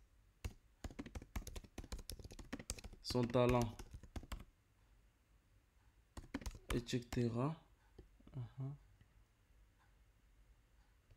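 Rapid clicking keystrokes on a computer keyboard come in quick bursts, pausing while a person talks between them, then resuming crisply and close by.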